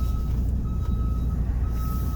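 A box truck reversing, its backup alarm beeping in a steady high tone over the loud, close rumble of the idling engine.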